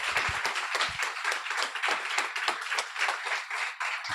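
Audience at a graduation ceremony applauding a kitchen crew, dense steady clapping filling the room at moderate loudness throughout with no talk over it.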